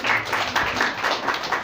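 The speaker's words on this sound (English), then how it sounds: "Please clap for him." A crowd at an NDE agricultural extension training opening for youths in Zamfara State claps for an official, a brief burst of many hands close by, with faint murmuring underneath.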